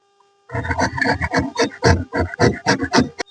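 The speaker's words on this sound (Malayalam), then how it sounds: "ബീട്രൂട്ട് എല്ലാം കട്ട് ചെയ്ത് കഴിഞ്ഞിട്ടുണ്ട് ഇനി ഗ്രേറ്റ് ചെയ്തെടുക്കാം" Beetroot being grated by hand, a series of about a dozen rhythmic rasping strokes, close and fairly loud, following a brief silence.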